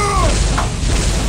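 A missile launcher fires in Turok 2, giving a single loud, close boom that fills the short moment.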